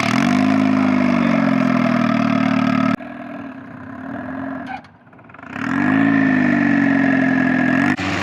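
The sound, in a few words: engine of turbocharged Mazda Miata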